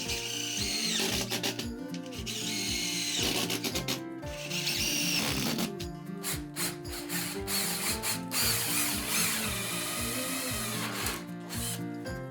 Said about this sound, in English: we drill holes in the marked spots and secure everything with screws